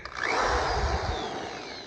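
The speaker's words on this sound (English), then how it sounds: "This is the single best corded drill" A Chinese-made corded drill runs at its slow speed, giving a steady, close motor whine that holds for about two seconds and then eases slightly.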